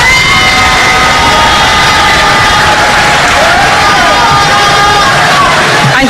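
Loud applause and cheering from a packed university auditorium crowd at a political event, dense clapping mixed with shouts and babble of voices, sustained throughout.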